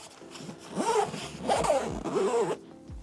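Zipper running along a flat pocket on a Topo Designs Global Travel Bag Roller, three quick rasping pulls in a row, close and clear, with no talking over it.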